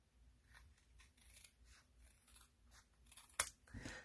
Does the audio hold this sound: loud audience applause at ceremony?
no